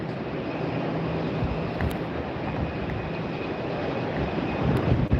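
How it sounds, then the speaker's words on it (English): A United Airlines Boeing 737 MAX 8 lands at Tampa airport on a very windy day, a steady broadband jet roar heard from a distance, strong and even throughout with wind buffeting. "This is coming in from SFO, San Francisco, United Airlines 2363, a 737 MAX 8."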